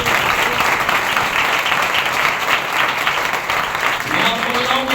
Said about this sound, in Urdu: پاک روح کے لیے زوردار تالی بجائیں